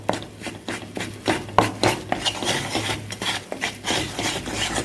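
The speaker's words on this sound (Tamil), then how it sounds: "இதை நல்லா நெய்யிலேயே நல்லா வறுக்க, நல்ல கலர் மாறுற மாதிரி நல்லா வறுத்து எடுத்துக்கோங்க." A spoon scraping and stirring moong dal as it roasts in ghee in a pan, producing rhythmic gritty rasping strokes, fairly close and repeated steadily with no voices.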